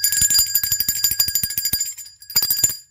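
A bicycle-style bell rings in rapid repeated bursts, a bright metallic trill of many quick strikes that pauses briefly and then starts again, loud and close with no talk.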